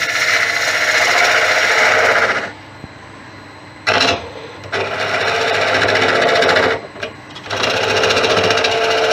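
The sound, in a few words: wood lathe spindle turning a monkey puzzle branch with a spindle gouge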